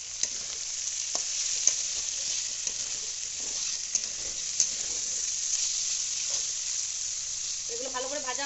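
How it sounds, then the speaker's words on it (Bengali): Turmeric and vegetables frying in a pan for turmeric chow mein, a steady close sizzle with occasional stirring clicks and scrapes running throughout; a brief tonal sound enters near the end. "এগুলো ভালো করে ভাজা হয়ে যাক"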